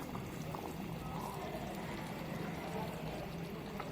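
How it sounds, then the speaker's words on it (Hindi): A pot of liquid for a quick kebab-style chicken dish at a rolling boil, a faint, continuous bubbling churn that stays even throughout with no pauses. "अब ये खौल गया है, मैं इसका आँच आधा कर दूँगी।"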